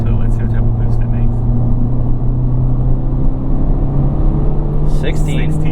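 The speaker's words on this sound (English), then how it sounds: "Drop it into 4th gear and roll into it." A Honda Civic Type R FL5 with a Stage 2 Hondata tune accelerates in 4th gear, a loud steady engine drone rising slowly in pitch inside the cabin, with brief speech over it.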